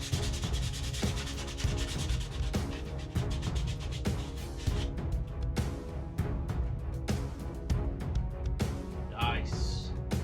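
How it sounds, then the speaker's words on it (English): Sanding of 3D printed Star Lord mask pieces, a steady scratchy rubbing that repeats in quick strokes with a constant hiss, close and fairly loud, with a person speaking at times over it. "I might need to do a bit more sanding"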